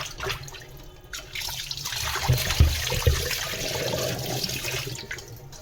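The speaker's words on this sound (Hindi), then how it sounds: "ये मैंने वॉश करके ये रखा है, इसका पानी निचुड़ जाएगा" A cloth is washed by hand in water at a home sink, with sloshing, splashing and dripping sounds, a few louder wet slaps, and steady running water underneath.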